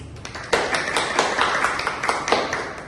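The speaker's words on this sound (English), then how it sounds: "Give him a round of applause." A small group of students in a classroom claps for a classmate, a brief round of scattered, uneven hand claps building after a quiet start, close and moderately loud.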